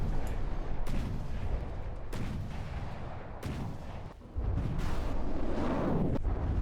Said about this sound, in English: Missiles coming in and hitting.